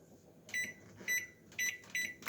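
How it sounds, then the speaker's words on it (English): A microwave oven runs with a soft steady hum underneath while a faint, high electronic tone pulses four times in a regular rhythm. "In the microwave."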